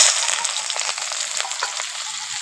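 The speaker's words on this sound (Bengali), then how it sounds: "পেঁয়াজটাকে একটু ভেজে নেব" Chopped onions with whole cumin fry in hot oil for a banana-flower and prawn kofta curry, giving a steady, loud sizzle with occasional stirring scrapes, and no talk.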